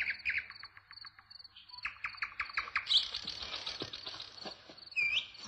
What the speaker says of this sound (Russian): Соловей, ну откуда?